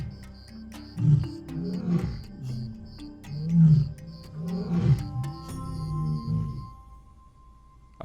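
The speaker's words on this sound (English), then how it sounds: "Their roars heralded the coming night." Lions roar at sunset in the Kenyan wild, a series of deep, rumbling grunting roars rising and falling over several seconds, with high insect chirping running faintly in the background.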